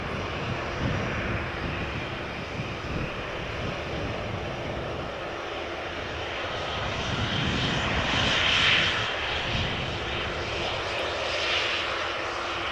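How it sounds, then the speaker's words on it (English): Norwegian Boeing 737 MAX 8 jet taking off at Amsterdam Schiphol Airport, a sustained broad engine roar with a low rumble that swells gradually toward the middle and end, distant and unaccompanied by voices. "first taking off is a MAX 8 from Norwegian going to Copenhagen"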